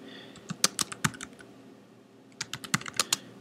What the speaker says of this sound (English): I'll type in interface LO0 for loopback